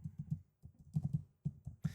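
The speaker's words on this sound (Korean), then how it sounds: "요 정도의 키보드 노이즈가 들어가게 되고요." Typing on an ordinary computer keyboard struck fairly hard, picked up by a FiFine AM8 USB microphone: a quick irregular run of close, dull key clicks with short pauses, no talk.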